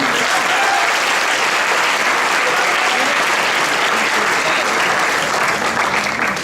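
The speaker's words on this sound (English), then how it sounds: "Everybody, a round of applause for Mr. Chris Wine." A large audience at a school boys' final awards ceremony claps in a sustained, loud burst. The dense, even applause carries on for several seconds with a few voices blended in.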